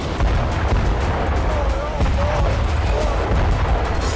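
Heavy bombardment in war footage from Syria: continuous, loud, rumbling blasts and booms merge into a dense roar of artillery fire, with a voice faintly underneath.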